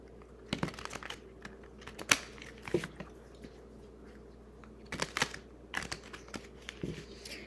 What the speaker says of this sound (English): So let's shuffle all the cards first.